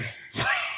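A single short sneeze, sudden and close, with a breathy burst after a brief intake in a casual tasting session.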